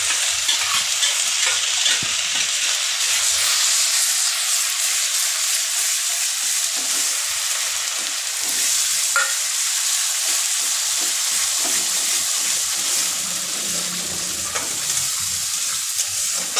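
Ground spice paste fries in a pan with a loud, steady hiss while it is stirred, and faint scraping comes through now and then over a constant sizzle.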